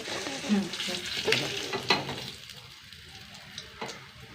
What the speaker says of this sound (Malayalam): സൂപ്പർ മത്തി അതും കൂടി വറുത്തെടുക്കട്ടെ